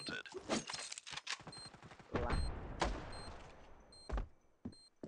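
Gunfire in the mobile shooter Standoff 2 during a bomb-plant round on the Sakura map: several sharp, loud shots in irregular bursts, with rapid clusters early and a few heavier isolated blasts later, no talk over them.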